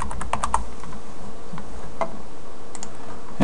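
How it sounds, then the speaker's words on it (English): Quick, close keystrokes on a computer keyboard as a sudo password is entered on Ubuntu 10.10, with a short irregular burst of clicks followed by a few scattered taps. "we'll have to type in the sudo password."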